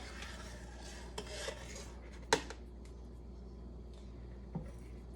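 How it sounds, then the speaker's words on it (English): A metal spoon scrapes and clinks against a soup pot while pushing dumpling dough off into chicken soup, with one sharp clink in the middle and softer taps and rubbing over a low steady hum. "So the first couple, you might have to take your other spoon and just push it off"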